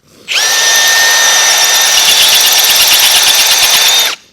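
A Matco cobalt step drill bit in a hand drill bores through metal, a loud, steady, high-pitched grinding whine with ringing tones that runs unbroken for about four seconds and then cuts off.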